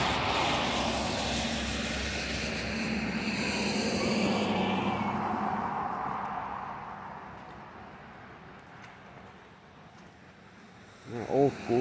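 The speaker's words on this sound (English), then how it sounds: "Old school tractor here." An old tractor engine on a back road in the Smoky Mountains near Gatlinburg, Tennessee, gives a loud, rumbling drone that gradually fades away into quieter outdoor ambience, with no one talking.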